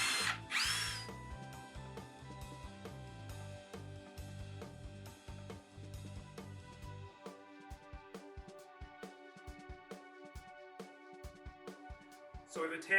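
Power drill driving screws to fix an LED extrusion wall bracket, several short whirring bursts of the motor, with a person speaking between them, near and moderately loud.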